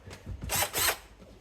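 Power drill boring a 2.5mm pilot hole in MDF during an undersink water filter installation, two loud whirring bursts in quick succession with brief lighter touches around them, close and alone.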